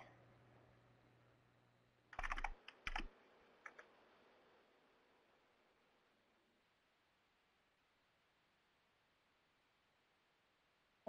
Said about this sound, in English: typing something in